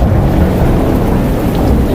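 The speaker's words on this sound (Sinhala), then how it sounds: "එන්නම වැස්ස වැඩි වෙනවා වගේ" Heavy rain pours down in Kumamoto, Japan, during the July rainy season, a dense, steady roar of broadband noise that stays loud and unbroken throughout, with no voices.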